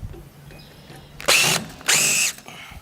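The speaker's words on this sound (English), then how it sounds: "We're now ready to install the screw that's going to go through the wall mount up into the 34-degree elbow" A power drill drives a screw through a handrail wall mount up into a 34-degree elbow in two short, loud whirring bursts separated by a brief pause, close up over a quiet room.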